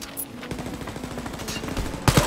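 Rapid automatic gunfire rattles through a Wolfenstein Youngblood firefight in close, fast bursts with no break, and a sharper, louder blast lands right at the end.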